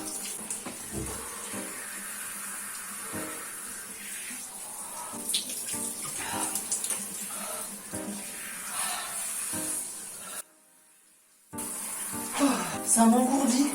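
Cold shower water running steadily with a broad hiss and spatter, briefly cutting out for about a second before resuming; a few faint vocal sounds under the spray.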